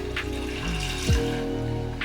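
Water pours into a pot for savoury vegan oatmeal, a short steady stream with a splashy gurgle, close and fairly loud, with no talking.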